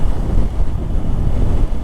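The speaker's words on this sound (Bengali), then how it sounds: "হালকা হালকা বাতাসও আছে" Heavy wind buffeting close to the microphone during a motorcycle ride, a continuous low roar with gusty fluctuations and no voices.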